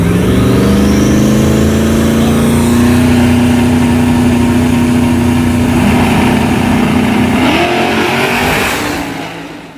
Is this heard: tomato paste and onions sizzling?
no